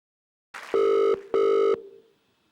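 Telephone line sounds for a live call: a brief tone followed by two loud, steady ringback buzzes of equal length, separated by a short gap and fading into quiet hiss.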